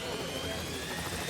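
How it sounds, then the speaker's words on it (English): A helicopter flies overhead on a remote island, a dense, steady rotor and engine roar that fills the whole moment at fairly high level. "Is that a chopper? There's a helicopter there."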